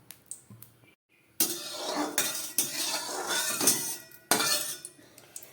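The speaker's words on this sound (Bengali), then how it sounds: "পুঁই শাক রান্না করার জন্য একটা কড়াই বসিয়ে আমি তার মধ্যে দিয়ে দিচ্ছি পরিমাণ মতো তেল" A metal wok set down on a stove and cooking oil poured in for cooking Malabar spinach, with clanks and scraping of cookware, a short pause, then a steady sizzling, clattering stretch, loud and close.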